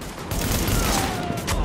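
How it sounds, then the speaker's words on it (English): Gunfire in Tom Clancy's The Division video game, a dense continuous fusillade of shots layered over a rumbling background, loud and sustained for the whole moment. "Who is shooting me over here?"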